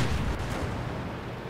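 A deep, booming tank cannon blast in World of Tanks rumbles through a continuous loud roar, like a heavy gun firing amid battle noise.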